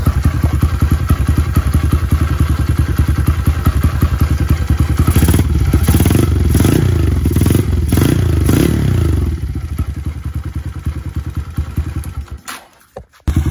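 A motorcycle fitted with a 28mm Kenada racing flat carburetor kicks into life on one kick and idles loudly and steadily up close with a rapid thumping pulse, revving briefly before cutting off abruptly near the end.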